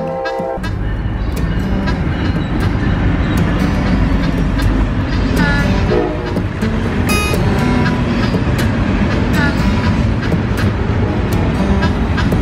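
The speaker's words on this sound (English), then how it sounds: "Well, here comes the train." A train rolls past at a miniature goat farm, a loud, steady rumble lasting throughout with brief squeals, while people talk over it.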